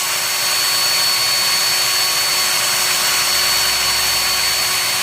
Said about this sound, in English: this is just the buffing wheel